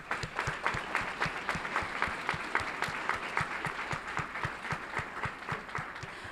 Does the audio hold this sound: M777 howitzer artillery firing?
no